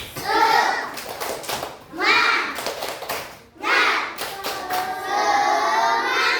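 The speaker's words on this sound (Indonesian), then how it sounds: "coba tepuk semangatnya lagi" Children in a classroom doing a spirited rhythmic group clap: bursts of quick clapping mixed with their chanting voices, loud and close, repeating in several rounds.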